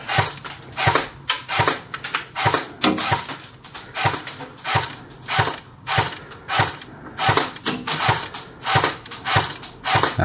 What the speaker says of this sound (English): We're going to be shooting at about a range of about 4 meters.